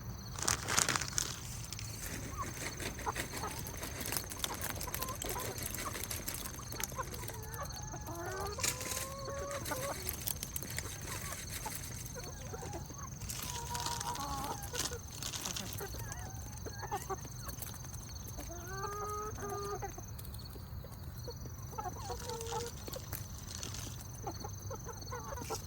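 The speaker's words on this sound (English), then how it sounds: "The majority of these chickens are of the breed Smoky Pearl." Smoky Pearl chickens cluck softly and intermittently, with a few short bursts spread over a steady low outdoor background hum, the calls moderately near and fairly quiet.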